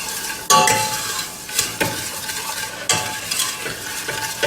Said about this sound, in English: I'm just going to keep stirring this till the sugar's all wet